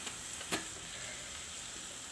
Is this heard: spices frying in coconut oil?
yes